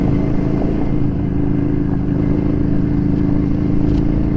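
Ducati Scrambler motorcycle riding on gravel, a steady, loud engine drone with low rumble and rough road and wind noise running continuously without pause.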